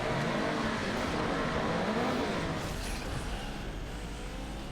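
A Morgan Aero GT revs and accelerates hard in the Asphalt 8 racing game on an Alps track, a loud engine note climbing in pitch and then shifting as it holds speed, with no voices.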